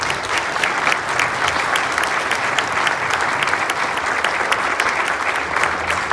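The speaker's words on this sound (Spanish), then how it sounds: "pido un fuerte aplauso para ellos" Strong audience applause at a secondary school ceremony marking a new roof, dense and continuous clapping from a large crowd, loud and even for several seconds with no voices over it.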